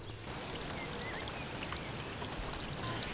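Rain has just started outside a river boat, a steady dense patter and hiss of drops on the surroundings, even and continuous with no voices.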